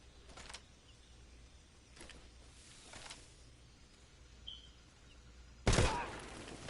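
Gunfire in Metal Gear Solid 3: Snake Eater, heard as a few brief sharp bursts spread across a quiet game background, with the loudest, densest burst near the end.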